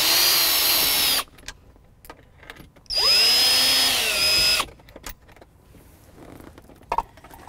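A power driver removes Phillips head screws from the console top panel of a Fox Body Mustang: two loud, steady whirring runs, the second longer, separated by quiet pauses with faint clicks.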